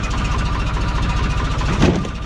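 An old Bizon combine harvester's diesel engine idles just after starting in snowy weather, a loud, close, steady knocking rumble with one brief louder surge near the end.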